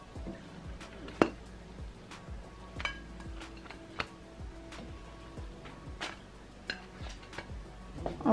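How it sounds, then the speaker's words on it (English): A whisk taps repeatedly against a bowl while dalgona coffee is beaten by hand, making scattered light clinks and ticks at an uneven rhythm over a quiet background. "You just want to whisk like this for like 5 to 10 minutes"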